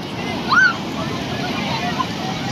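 Surf breaking on the crowded sand of Puri beach, a steady wash of waves with wind noise over the microphone and one brief tonal squeal near the start.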